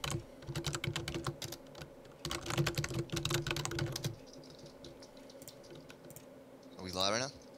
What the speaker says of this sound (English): you can hear everything I type